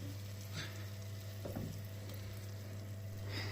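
Tomatoes being stirred into a frying sauce of onions for meatballs, a steady close sizzle throughout with a few soft spoon scrapes and knocks against the pan.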